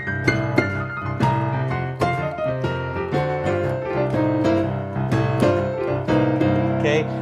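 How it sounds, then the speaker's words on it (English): Piano blues run: the blues scale played quickly down the keyboard, a fast cascade of bright notes with sustained chords ringing underneath, continuous and loud with no talking. "a blues run is when you play the blues scale pretty quickly down or up the piano"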